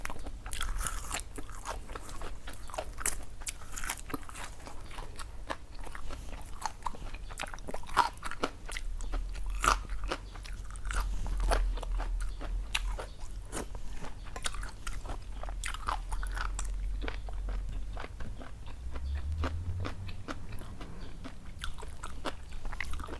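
Close, crunchy chewing of a tough yet crisp Thai Isan dish, steady bites and munching running throughout with no talk.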